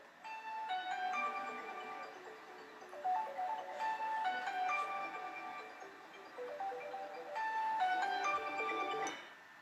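Smartphone ringing with an incoming call, a looping electronic melodic ringtone that repeats several times, steady and close, with no talking.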